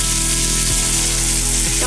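Shallots, onions and baby bella mushrooms sizzle loudly in butter in a hot pan, a steady close frying hiss with a couple of brief low clunks from stirring.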